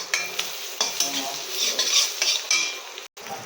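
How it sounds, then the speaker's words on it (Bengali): Turmeric, chili powder and salt fry in a pan while a spoon stirs, with a steady sizzle punctuated by sharp metallic scrapes and taps against the pan, close up and without talk. "এখানে দিয়ে নিয়েছি হলুদ গুঁড়ো, লঙ্কা গুঁড়ো, নুন একসঙ্গে দিয়ে আর আমি একটু ভালোভাবে এটাকে ভেজে নিচ্ছি"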